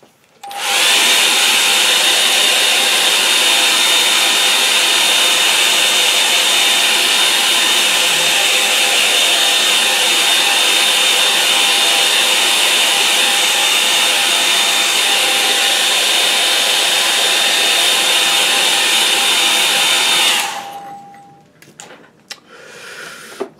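A hair dryer blows on a watercolour painting of a winter stream with a loud, steady whirring roar for about twenty seconds. It then cuts off, leaving a few faint knocks.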